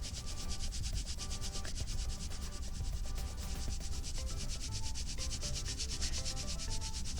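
Steady back-and-forth scratching of a colored pencil on paper, close up and continuous, with a quick rhythmic stroke pattern and no talking.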